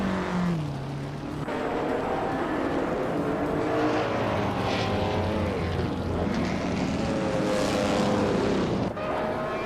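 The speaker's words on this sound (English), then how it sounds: "Naibe is driving a 1952 Kuzma Offie, a classic IndyCar known for its vintage charm." Several 1952 Kuzma Offie IndyCar engines in a racing game drone and whine together, a continuous loud roar with rising and falling pitch as cars pass and shift, with no talk.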